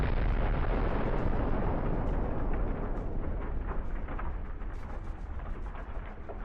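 An FPV kamikaze drone strike on a tank, violent enough to blow off the turret, leaves a loud, dense roaring blast rumble that decays slowly over several seconds, with crackling debris throughout and no speech.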